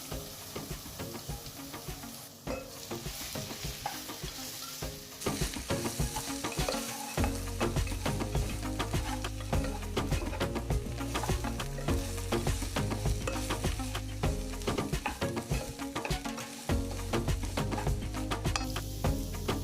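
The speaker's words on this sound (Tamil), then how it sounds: "இப்போ ரவையை போட்டுடலாம்." Semolina (rava) is stirred and roasted in a pan with vegetables. Steady, close sizzling runs throughout under rhythmic spatula scrapes, growing denser partway through, with no voices.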